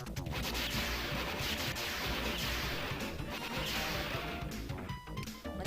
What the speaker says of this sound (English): Now let's shoot these barrels.